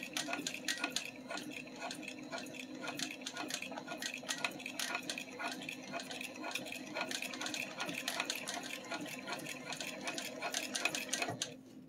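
A sewing machine runs a long basting stitch at 1/8 inch seam allowance, a continuous close whirring drone with rapid needle clatter, steady throughout with no talking.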